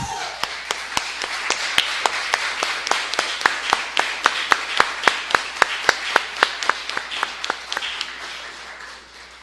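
Audience applause fills a municipal council chamber during an ordinary session, steady clapping from many hands with sharp individual claps standing out, sustained and fairly loud throughout.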